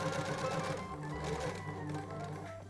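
A sewing machine runs steadily, stitching fabric pieces of a drop-waist dress at a half-inch seam, with a close, continuous mechanical whir and rapid needle clatter that shifts slightly in pitch midway.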